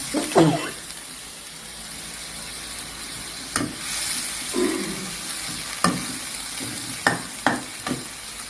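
Water is added to a pot while cooking, bringing a steady close sizzle and hiss broken by several sharp knocks and clatters of a stirring utensil.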